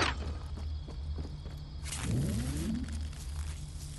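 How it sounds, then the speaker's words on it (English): Footsteps in the Fortnite battle royale at Tilted Towers, a quick run of soft steps with a brighter shuffling stretch, heard close and fairly quiet with no voices. "Somebody else is here. I hear footsteps."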